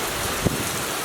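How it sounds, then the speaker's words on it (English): Heavy rain pouring down on a flooded southern Alabama yard, a dense continuous hiss filling the whole moment with one faint knock partway through. "It's been raining for less than a minute and my yard's already flooded."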